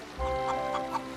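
A hen gives a short run of soft clucks, three or four quick notes close by at low volume with no voices.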